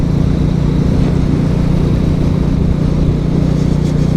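A Royal Enfield Classic 350 motorcycle cruises steadily through Warrington in daylight, its low engine drone and wind rush continuous and close throughout.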